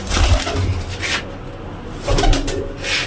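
Domestic pigeons cooing nearby in low, throaty rolling calls, repeated in short bursts with some wing or rustling noise mixed in, and no one talking.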